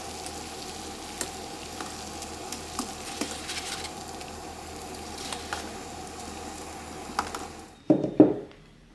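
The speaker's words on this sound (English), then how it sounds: "We're gonna boil the eggs for 12 minutes" Eggs boiling in a pot of water, a soft steady bubbling with scattered small pops and ticks, ending in a couple of louder knocks.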